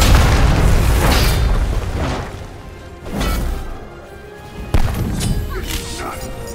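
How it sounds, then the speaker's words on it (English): A tower is destroyed in a video game, a heavy booming crash with rumbling debris that repeats in several loud impacts, with a game announcer's voice over it. "Your right tower has been destroyed."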